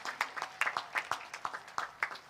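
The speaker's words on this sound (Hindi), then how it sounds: "तालियां हो जाएं प्लीज आप सभी की।" A small audience at a ceremony for disabled CRPF personnel claps in a sparse, uneven patter of individual hands, moderately close and fairly quiet, lasting a couple of seconds.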